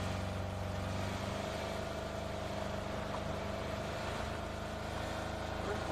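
A vehicle drives through open terrain in the PUBG battle royale game, its engine a steady mid-pitched drone with a constant hum, continuous and even in level for the whole stretch.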